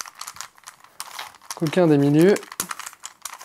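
A Rubik's cube being twisted and scrambled by hand, giving rapid plastic clicks and clacks close by, running under a voice speaking French.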